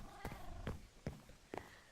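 A cat in the video game Minecraft gives several short, soft bursts of purring and mewing, about four evenly spaced sounds, faint and close.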